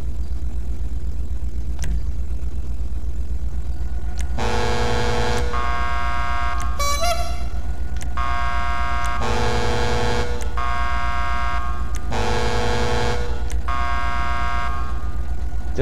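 Video game truck horn blaring in several long, loud honks with short gaps between them, over a constant engine hum.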